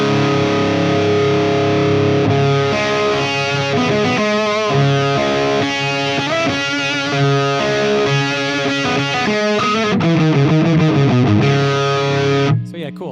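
A heavily distorted electric guitar plays chords and riffs through an AmpliTube ToneX amp capture resembling an Orange amp, loud and sustained, ending with a sudden cutoff.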